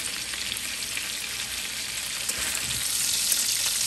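Steak pan-frying gives a loud, dense, continuous sizzle with steady hiss and faint crackle throughout, close and alone.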